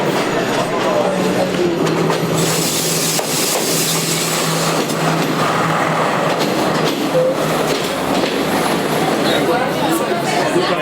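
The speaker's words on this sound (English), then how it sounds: "1 hour late, but the train is arriving." A train rumbles steadily into a station in Sri Lanka with a low engine drone and rattling carriages, while crowd chatter continues throughout.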